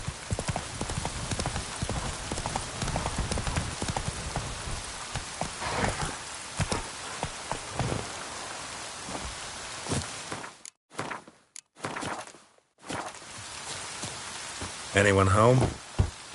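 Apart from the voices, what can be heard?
rain in the video game The Witcher 3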